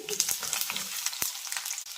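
Raw banana pieces fry in hot oil with cumin, green chilli pieces, curry leaves and sesame seeds, giving a loud, steady close sizzle with a sharp crackle partway through.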